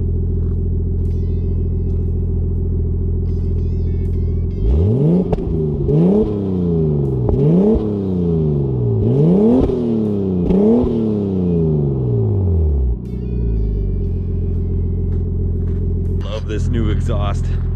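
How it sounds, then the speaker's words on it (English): A warm car engine idles with a deep rumble through a one-piece exhaust from the catalytic converter to the tip, ordered from Japan, then revs sharply five or six times in quick succession before settling back to a steady idle. "Exhaust, so good, so freaking good."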